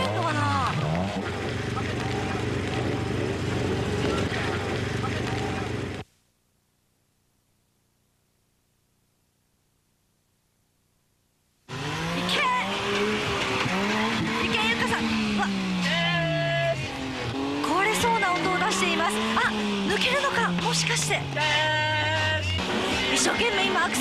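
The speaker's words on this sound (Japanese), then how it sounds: "一生懸命今アクセルを吹かしています。" A 4WD vehicle revs its engine hard while trying to climb a steep course, a rough, noisy drone heard under excited commentary, cut off by several seconds of silence before the revving and voices return.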